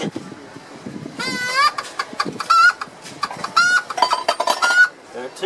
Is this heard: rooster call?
yes